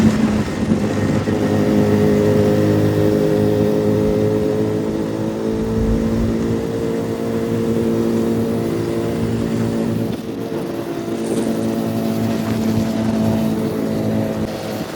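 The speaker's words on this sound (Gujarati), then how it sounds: "તમને કોલ્ડ સ્ટાર્ટનો અવાજ આવી જ ગયો છે" Motorcycle engine idling after a cold start at a roadside check post, a loud, steady, close throbbing rumble that holds for the whole stretch with slight shifts in pitch, no voices.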